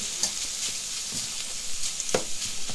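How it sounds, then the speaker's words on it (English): German beef mince frying and browning in a pan, a steady close sizzle broken up by light scraping as it is stirred into crumbs. "just try and break it up into that crumb texture, allowing it to cook through and just brown off that mince nicely"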